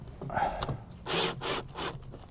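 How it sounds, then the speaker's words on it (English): Screws driven into a replacement speaker inside a Ford Focus Mk2 door panel, heard as a few short bursts of whirring, grinding fastening at close range with some faint handling clatter before. "And secure it with these screws."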